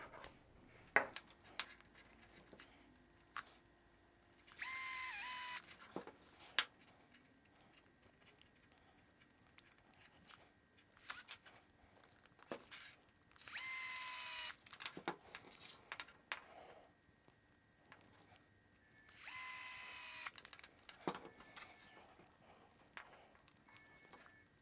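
A power driver sets screws into the servo of a 1/10 Arrma RC truck, giving three separate high whirring bursts of a few seconds each. Quiet clicks and handling of small parts fill the gaps between them.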